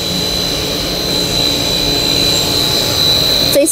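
A 4 kW air blower on a high-speed blown film machine for recycled plastic roars in a steady loud rush with a constant high whine, close and unbroken, ending with a brief clunk.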